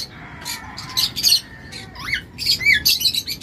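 Harsh, piercing umbrella cockatoo squawks burst out repeatedly over a noisy background, with rising and falling shrieks clustered in a few loud bursts.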